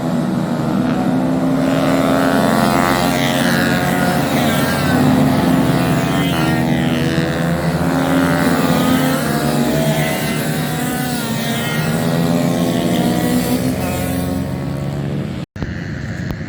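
Honda CBR125 motorcycles racing on a damp track at a Three Sisters streetstock meeting, their engines making a loud, continuous droning whine with rising and falling pitch as the bikes pass, close and sustained throughout, with no speech.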